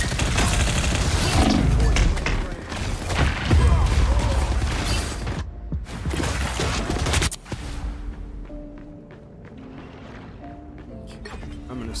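Heavy weapon fire in a game thunders in dense, loud booming volleys for several seconds, then fades to quieter mechanical sounds, with a voice talking over the barrage.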